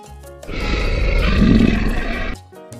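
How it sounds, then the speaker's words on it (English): A lion's roar, one long loud rumbling call building and fading over about two seconds, with no talk. "L for lion."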